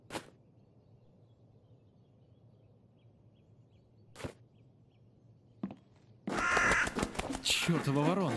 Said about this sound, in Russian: Чёртова ворона.